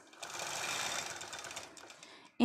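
A sewing machine quilting a quilt top hums in a steady, fast stitching drone for about two seconds, close and clear, then stops abruptly.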